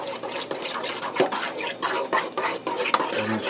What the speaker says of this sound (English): I'm just giving it a rough stir quick to break them eggs up